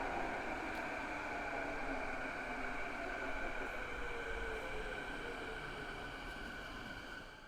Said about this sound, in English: The next train to arrive on the inbound platform is for Waterfront.